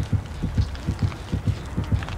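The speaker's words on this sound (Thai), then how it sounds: "เสียงหัวใจมันอยู่แถวเนี้ย" A steady heartbeat thumps from the horror game Dead by Daylight Mobile, low and rhythmic with about five double beats in quick succession, nearby and alone.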